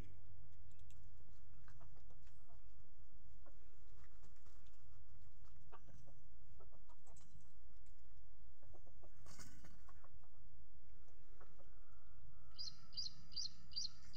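Hybrid jungle fowl chickens, first-generation crosses with wild jungle fowl, cluck and call softly at a distance after being released, with scattered short chirps over low background rumble and a brief brighter rustle near the end.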